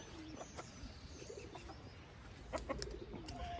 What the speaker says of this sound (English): Couple of doves.